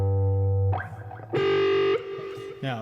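A guitar played through a Landgraf MOD distortion pedal produces a low G difference tone, a buzzing distorted sustain that breaks into short, separate chord bursts, clear and close with no talking.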